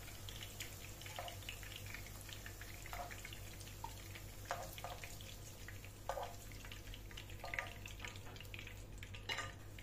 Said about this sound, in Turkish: Kalan diğer köftelerimi de aynı şekilde kızartmaya devam ediyorum.